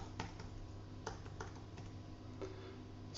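Quiet typing on a computer keyboard, with soft, scattered key clicks in an irregular rhythm over faint background hum and no voices.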